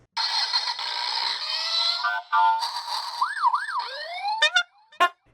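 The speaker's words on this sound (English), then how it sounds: "Let's also listen a little bit here to the toy's vehicles." Toy vehicle sirens from a sampled toy library play in quick succession: wailing rising-and-falling tones, a warbling two-note pattern, then short sharp electronic chirps, all close and clean against silence.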